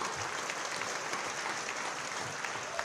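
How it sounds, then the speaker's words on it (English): An audience at a university alumni awards event claps in a dense, steady round of applause that fills the room at moderate loudness. "Can we start clapping here?"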